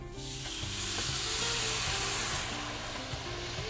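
Broth goes into a hot pan of bomba rice cooked with lobster, giving a loud, steady rush of sizzling and hiss that swells and holds close by for a few seconds, with no voices.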